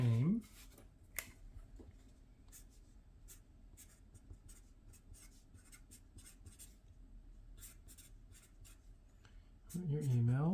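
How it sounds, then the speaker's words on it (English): A pen scratching out a name on paper, a soft, irregular run of short strokes close by, with a voice briefly speaking at the start and end. "So write your name."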